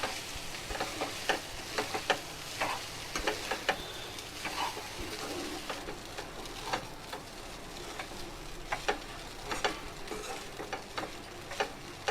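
A spoon stirs capsicum tomato rice around a hot pan, with a steady low sizzle under repeated sharp scrapes and taps of the utensil against the metal, no voices.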